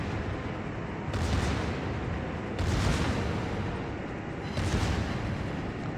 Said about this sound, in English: My secondaries are opening up on the Delaware